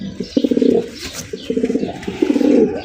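A fancy pigeon coos in soft repeated throaty bursts, close by and alone, with a faint chirp in between.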